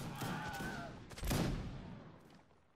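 Musket volley fire in a line-battle video game, a broad ragged burst of many shots merging into a loud roar that peaks and then fades out, with faint voices under it.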